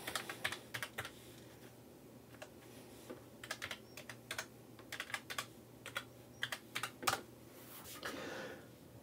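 A computer keyboard being typed on in irregular bursts of crisp clicks with pauses between, quiet and close over a low steady hum.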